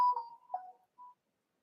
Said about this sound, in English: that was my phone giving me a notification.